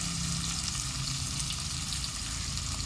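Chopped onions sautéing in a pan for chicken kulambu, a dense continuous sizzle and crackle held close and even throughout, with no voices.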